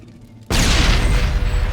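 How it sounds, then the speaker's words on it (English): A grenade going off in the video game Mass Effect, a sudden loud boom after a quiet half-second, followed by a broad roaring rumble that lingers to the end. "Explosion!"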